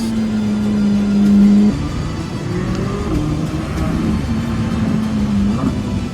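A Corvette Z06 accelerating on a race track during a track day, its loud engine drone steady and close, rising in pitch before easing and holding through the rest of the clip.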